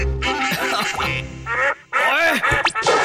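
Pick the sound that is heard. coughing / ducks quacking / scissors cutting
ducks quacking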